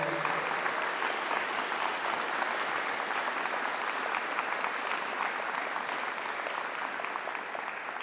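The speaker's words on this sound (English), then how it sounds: "I think we got to give a huge round of applause to our design team" An audience applauds the youth design team that put together a youth perspective program, with dense, steady clapping that fills the whole stretch at even strength and only slight fading near the end.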